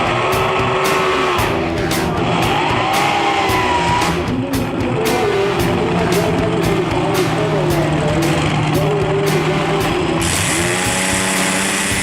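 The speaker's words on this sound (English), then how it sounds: "the sound of a supercharged V8 is heaven for street rodders" A supercharged V8 nostalgia drag racing car runs loud and continuous, its dense engine roar dominating with shifting pitch and no break over the whole stretch.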